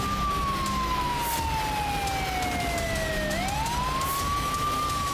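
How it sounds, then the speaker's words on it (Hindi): Ambulance sirens in Kyiv streets after an attack: a wailing siren sweeps slowly down in pitch, then rises again, over a steady rumble of street noise; no one speaks. "गलियों में एम्बुलेंस के सायरन गूंज रहे हैं"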